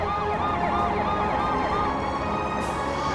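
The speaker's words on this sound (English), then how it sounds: "Popo, lead the way for the ambulance so we can get the passengers safely to the hospital" Wailing ambulance siren from a cartoon rescue car, loud and continuous with a steady rising-and-falling warble throughout, no talk over it.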